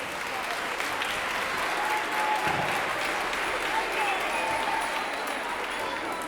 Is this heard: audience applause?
yes